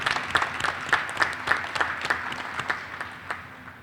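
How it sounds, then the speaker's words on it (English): At a town meeting, an audience gives a round of applause: a moderate, fairly sparse run of distinct claps at a steady rhythm, slightly distant and easing off near the end. "Let's all give Carol a round of applause here"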